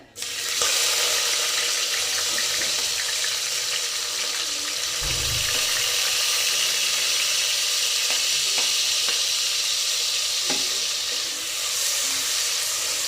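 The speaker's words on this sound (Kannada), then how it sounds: "ಫ್ರೈ ಮಾಡ್ಕೋಬೇಕು ಒಂದು ಸ್ವಲ್ಪ ಈರುಳ್ಳಿ ಎಲ್ಲ ಸ್ವಲ್ಪ ಗೋಲ್ಡನ್ ಫ್ರೈ ಆಗಬೇಕು" Onions frying with cinnamon and cloves in hot oil for tempering, a steady, continuous close sizzle that holds evenly throughout, with a brief low stir or bump midway and no talking.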